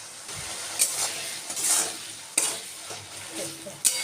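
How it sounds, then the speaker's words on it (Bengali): Potatoes frying and being stirred in a pan, steady sizzle with a few sharp scraping clatters of a utensil against the pan, close and fairly loud throughout, no talking. "আলুটা বেশ ভেজে নেবো"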